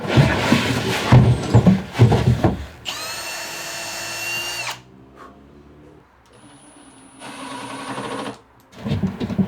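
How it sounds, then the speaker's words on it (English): A power planer whines loudly in two bursts of a couple of seconds each as it planes 1 millimeter off timber, with workshop clatter and handling noise around them. "I'm just going to plane 1 millimeter off the timber that the runners are attached to"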